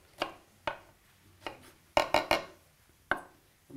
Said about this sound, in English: The onion for that, I'll just cut coarse